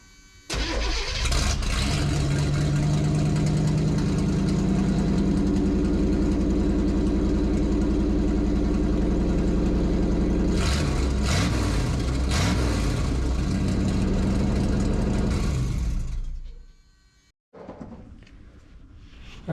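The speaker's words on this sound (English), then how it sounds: "we're gonna do an open header, or open exhaust start" An abandoned big block truck engine cranks and roars to life with open exhaust, loud rough rumbling and revving for around fifteen seconds before shutting down abruptly.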